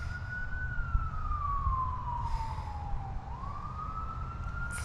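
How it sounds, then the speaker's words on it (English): Emergency vehicle sirens wail in the distance during an overnight fall bivy camp in a yard in Central New York, one long rising-and-falling tone sweeping over a low background rumble. "I'm sure you guys can hear the fucking sirens in the background."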